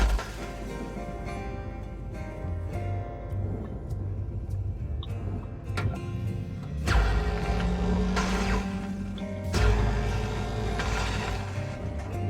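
A cutter tool slicing through a Javelin tanker hull in Hardspace: Shipbreaker, sustained mechanical grinding and ratcheting with sharp clicks, building to louder crunching bursts partway through, no voices.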